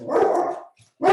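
A dog barks twice indoors, close and loud, each bark short and sharp with a short gap between them.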